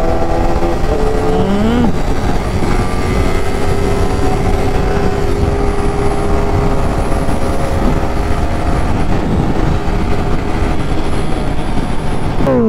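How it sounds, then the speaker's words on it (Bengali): An inline four-cylinder motorcycle engine running steadily, a loud continuous drone with smooth tonal harmonics and a short pitch rise near the start, alone without talk. "4 সিলিন্ডার, আলাদাই সাউন্ড হয় 4 সিলিন্ডারের।"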